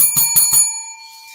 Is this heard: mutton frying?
no